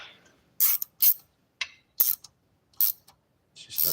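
Bolts are tightened with a ratchet during a valve adjustment, giving a handful of short, sharp clicking bursts spaced unevenly across a few seconds, close and clear against silence.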